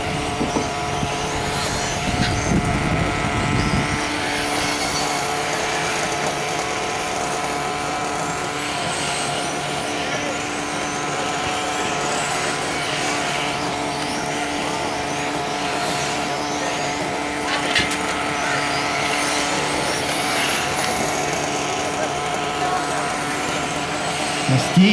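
Radio-controlled VTA on-road race cars whine around a track in a steady high-pitched buzz of electric motors, with pitch sweeps as cars pass and a brief louder burst near the start.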